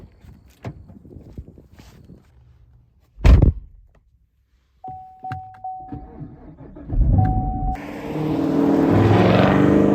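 A Chevrolet Camaro 1LE being entered: a heavy door thunk, footsteps and shuffling, a steady electronic chime tone, then the engine catches with a loud sustained rumble, all close and with no talking.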